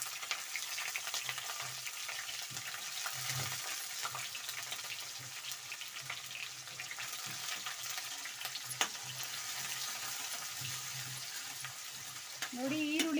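Chopped onions sizzle steadily in a pan while a vangi bath rice dish is prepared, a dense, even frying hiss throughout with occasional stirring scrapes near the end.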